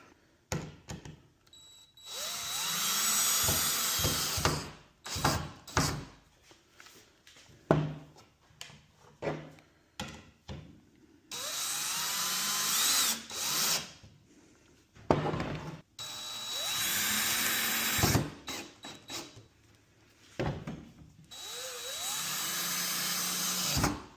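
A power drill drives screws into the wooden slats of an Adirondack chair, several loud whirring bursts of a few seconds each separated by quiet pauses and small handling knocks.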